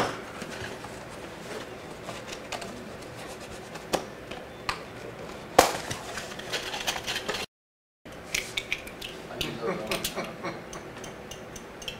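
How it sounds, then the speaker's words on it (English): A cheap, thin woodworking clamp is tightened in a shop while an edge is glued for a scroll-sawed basket, giving a series of close, scattered ratcheting clicks and creaks with one brief silent gap. "This is a cheap clamp."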